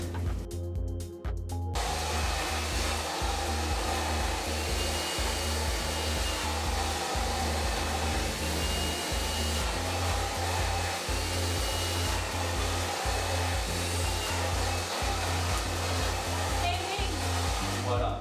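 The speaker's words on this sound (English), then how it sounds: "And you blow dry like this." A hair dryer blows steadily and loudly on coarse hair while a brush works through it, a continuous whooshing roar with a low pulsing hum that runs for the whole stretch, with no talk over it.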